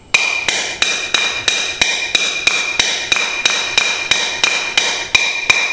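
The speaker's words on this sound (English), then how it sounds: "So we know we can hammer with it" A 4-in-1 tool is used as a hammer to drive a nail, giving about fourteen sharp, loud strikes at a steady, even pace.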